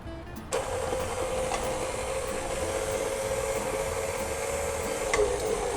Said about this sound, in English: Now I'm going to mix everything into a dough.